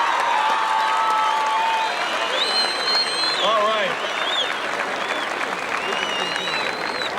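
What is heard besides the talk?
crowd applause at opening ceremonies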